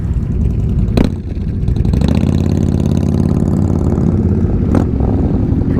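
A Road Glide motorcycle fitted with aftermarket pipes idles and burbles nearby at a busy Jeepfest gathering in Marble Hill, Georgia. Its steady, loud engine rumble is broken by a couple of sharp knocks.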